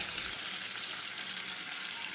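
Four pieces of fish fry in a pan over a low flame, giving a steady, even sizzle with soft crackles throughout, close and alone with no talking.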